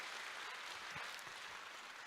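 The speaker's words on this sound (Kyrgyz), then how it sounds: "сиздей айымдар үчүн сиздер кол чаап коюңуздар" An audience at a talk on mother-in-law and daughter-in-law relations claps in a dense, even burst of applause, faint and distant, with no voices over it.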